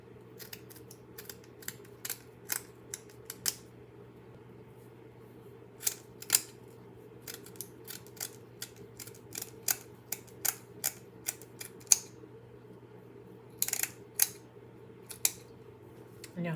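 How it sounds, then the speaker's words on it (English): Scissors snipping excess craft material off bunny ears for a Dollar Tree Easter hop shelf sitter, a series of crisp close cuts, some in quick pairs, over a steady low background hum. "And then cut the excess off."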